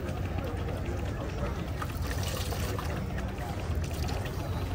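Water pours from the adjustable valve of a Geyser Systems portable hot shower sponge, a steady broadband hiss and splash that runs evenly throughout, close and moderately loud, with no talk over it.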